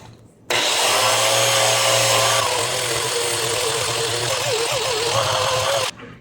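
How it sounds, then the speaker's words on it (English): Flap disc grinding scale off metal, a loud, close, high-pitched whine that starts abruptly, holds steady for about five seconds with slight wavering as the disc bites, then stops sharply. "I am going to take my flap disc, clean off a bare spot, and get all this scale off."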